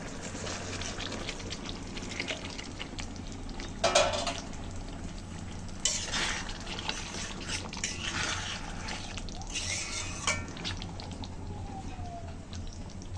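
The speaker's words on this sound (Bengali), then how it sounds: "এখন আমি মাছগুলো দিয়ে দেবো" Hilsa fish go into a pan of frying mustard spice paste, producing a low, steady sizzle with scattered drips and a few brief louder splashes of spattering oil.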